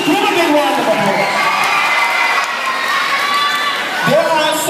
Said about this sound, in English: Let's give Ms. Grimm a big round of applause.